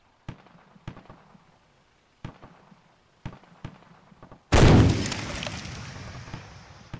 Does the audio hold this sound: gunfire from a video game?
yes